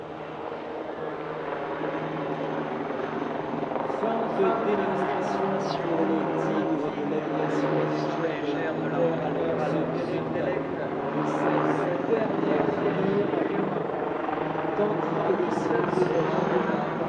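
Tiger attack helicopter at an airshow performing a fast yaw, a steady distant rotor and turbine drone that swells slightly as it manoeuvres, with a commentator talking over it.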